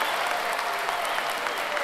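An audience at a Turkish award ceremony for a centenary march competition applauds as the orchestra is invited onstage, a steady, even wash of clapping throughout.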